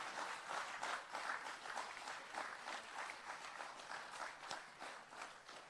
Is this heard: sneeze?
no